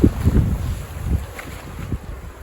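Strong gusts of wind buffet the microphone, producing low rumbling blasts that rise and fall unevenly.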